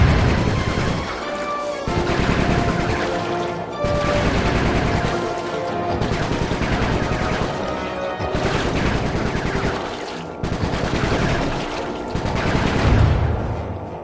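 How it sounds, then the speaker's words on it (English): Rapid gunfire in the stealth platformer Sly Cooper 3, dense repeated bursts with crashing impacts that swell and dip in several waves, loud and continuous without voices. "Nice shooting, Bentley."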